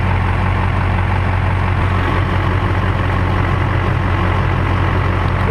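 A pickup truck engine with 400,000 miles idles steadily nearby, a constant low throbbing rumble with an even, unchanging tone and no talk.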